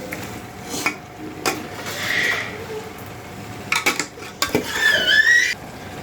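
Metal spoon scraping and clinking against a pot while chicken dum biryani ingredients are mixed, a few scattered stirring scrapes and taps, close and moderately loud, with a thin squeak toward the end.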